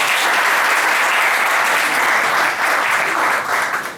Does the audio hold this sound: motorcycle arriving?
no